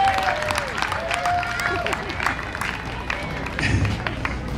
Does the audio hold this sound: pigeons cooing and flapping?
no